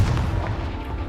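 A Confringo explosion spell in Hogwarts Legacy, a loud, dense low boom with a rumbling tail filling the whole moment without any voice over it.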